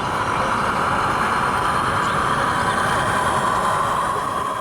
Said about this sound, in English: has got traffic passing, and has also got some loco sounds added on top.